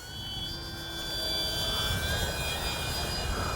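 Kavan Pilatus PC-6 Porter RC plane flying, a steady whining electric motor drone with shifting tones, continuous and moderately near against outdoor wind.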